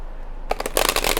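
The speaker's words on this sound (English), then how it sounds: "it shuffles nicely" A Wizards Tarot deck being shuffled by hand: half a second of quiet, then a quick crisp burst of riffling, flapping cards, close up with no voices.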